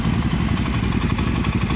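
Suzuki DRZ400 400cc motorcycle engine running steadily, a dense low rumbling idle with clattery texture, close and loud with no voices.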